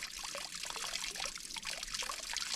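Water running out of the end of a newly fitted drainage pipe, a steady splashing trickle with small bubbling gurgles, continuous and fairly close throughout.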